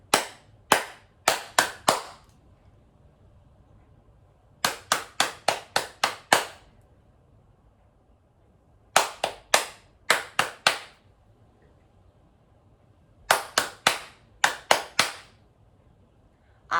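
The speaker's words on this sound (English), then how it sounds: "So I think we'll do clapping for that." Clapping as body percussion in a rhythm game, crisp sharp claps in quick groups of about five to seven, each group followed by a pause, repeating as call-and-response patterns, close and loud with no talking.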